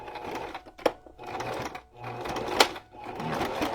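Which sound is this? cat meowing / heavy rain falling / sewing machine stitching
sewing machine stitching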